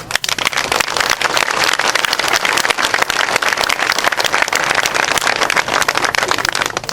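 Audience applause at a Rawat community gathering in Dabra, dense continuous clapping from a large crowd, loud and steady throughout.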